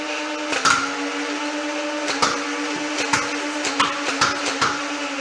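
A fully modified Boomco Colossal Blitz blaster, loaded with 72 rounds and powered by a 3S LiPo, fires single shots on semi-auto: about eight sharp snapping shots at uneven intervals over a steady whirring motor hum.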